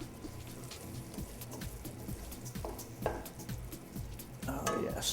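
Risotto stirred in a pan, a spoon scraping and pushing the thick rice in a steady rhythm over a soft sizzle, with a louder wet burst near the end.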